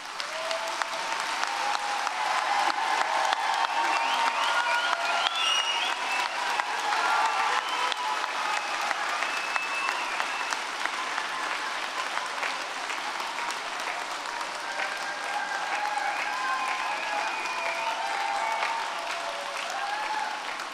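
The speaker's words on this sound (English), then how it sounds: "with a warm round of applause join me in thanking your family and friends that are here today" Sustained applause from a graduation ceremony audience in a hall, a dense wash of clapping that holds steady and loud for about twenty seconds without letting up.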